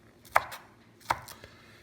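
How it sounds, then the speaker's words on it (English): Two crisp knife chops strike a cutting board while chopping green onions, spaced about a second apart, with a fainter tap after the second; quiet and close, no talking. "We just need to chop up some green onions."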